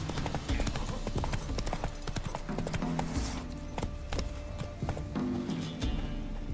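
Roach the horse galloping in The Witcher 3, hooves pounding in a rapid, steady clip-clop rhythm that stays loud and close throughout, with some faint background rustle.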